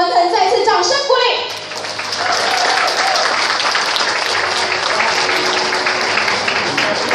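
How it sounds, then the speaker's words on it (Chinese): Guests at a wedding reception applaud the groom in a sustained burst of clapping that carries on steadily at moderate volume, while a host talks over a microphone at the start. "再次掌声鼓励"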